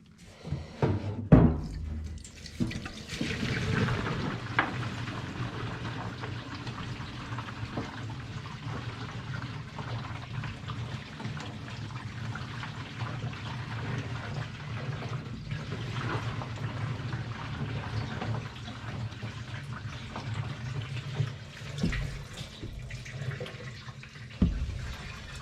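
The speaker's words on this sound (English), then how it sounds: "Alright, gonna put some petrol in." Petrol poured into a homemade parts washer built from recycled parts, a continuous soft liquid splashing and trickling that runs steadily for the whole stretch, with a few small clunks at the start and end.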